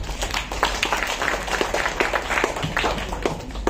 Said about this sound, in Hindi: अब हमारी अगली कवित्री का लतिका का जोरदार तालियों से स्वागत करें।